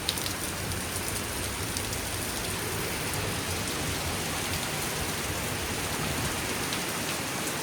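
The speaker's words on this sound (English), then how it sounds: "it is raining the most I've ever seen it" Heavy rain pours steadily during Hurricane Milton in Florida at night, a dense, constant hiss of downpour on surfaces with no letup and no voices.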